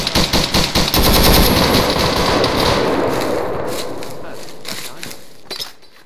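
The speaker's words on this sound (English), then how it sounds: "Shots to the right somewhere." Rapid bursts of automatic gunfire in the Vietnam-era Arma 3 combat game, loud and dense at first with crackling echoes that trail off, a few more single shots near the end, with squad voices mixed in.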